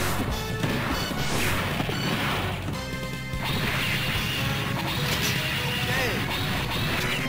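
Shotgun blasts in the Metal Slug arcade game, dense crashing hits over busy game sound and music, with a voice talking over the action throughout.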